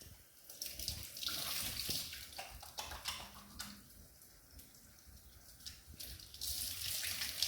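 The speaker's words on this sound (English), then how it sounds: "Roll up long sleeves and wash hands." Tap water runs into a sink as hands are washed before making a cheese sandwich, a steady splashing stream close by that shifts as the hands move through it.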